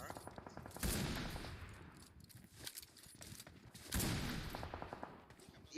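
AMR sniper rifle from PUBG Mobile firing two heavy, loud shots about three seconds apart, each a broad blast with a long rolling decay and faint mechanical clicks in between.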